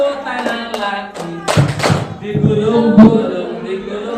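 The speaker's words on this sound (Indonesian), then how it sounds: "tepuk tangan lagi" Small kindergarten children clapping their hands at a school closing event, a few loose claps and taps mixed with a sung melody and voices, fairly close and uneven.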